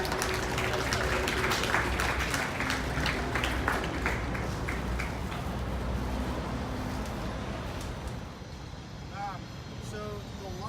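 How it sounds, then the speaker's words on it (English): A group applauds a fire department truck company rescue team at an outdoor demonstration, clapping fairly loud at first then fading, with a steady engine rumble underneath and a few brief voices near the end. "Give a round of applause for truck one, guys."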